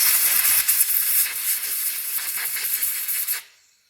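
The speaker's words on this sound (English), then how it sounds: "So, I'm going to blow this out with the air hose, clean the tubes out." A leaking air hose blows out the tubes of a 10 micron fuel filter for a derby car, giving a loud, steady hiss that runs for about three and a half seconds and then cuts off abruptly.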